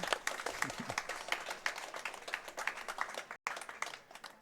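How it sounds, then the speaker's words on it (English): Continuous applause from a crowd at a speedrunning event, steady dense clapping throughout with a momentary break near the end. "More applause."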